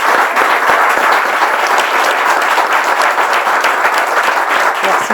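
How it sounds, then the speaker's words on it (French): Loud, sustained applause from a large church crowd at a memorial tribute for a pastor, dense clapping filling the whole stretch without letting up. "Je veux qu'on salue, mais vraiment avec des applaudissements bien mérités."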